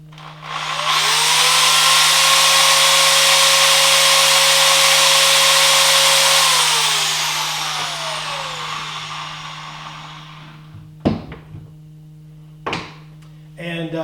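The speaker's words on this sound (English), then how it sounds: "Where else have you seen a drill powered Dremel tool?" A hand drill drives a Dremel rotary tool at a heavy workbench, whining loudly at a steady pitch for several seconds before spinning down, followed by a couple of sharp knocks.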